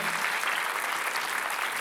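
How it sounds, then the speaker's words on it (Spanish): A church congregation applauds during a sermon, a dense, steady wash of many hands clapping at once that fills the space evenly for a couple of seconds, with no clear voice on top. "Dale un aplauso a Jesús."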